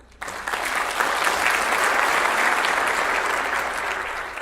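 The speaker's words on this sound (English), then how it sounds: "So please welcome and give him a big amount of applause, Dr. Andy Bow." An audience in an architecture lecture hall breaks into loud, sustained applause for a guest lecturer, starting abruptly and holding a dense, even wash of clapping with no voices.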